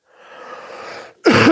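A breathy intake of air is followed by one sharp, explosive cough-like burst near the end, close and loud.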